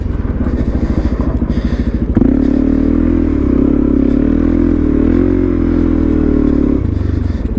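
A lightweight Suzuki DRZ supermoto drifts on dirt, its single-cylinder engine loud and close, chugging steadily before rising into a sustained high rev that holds for several seconds, then drops back.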